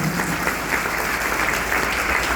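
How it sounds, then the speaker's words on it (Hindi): A school Independence Day audience applauds steadily, a dense continuous wash of many hands clapping at even loudness throughout, with no voices over it. "एक बार जोरदार तालियां आप सभी अपने लिए भी बजाएं"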